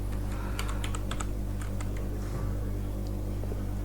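Rapid, uneven keystrokes tapping on a computer keyboard, close by, with a steady low hum of machine noise underneath.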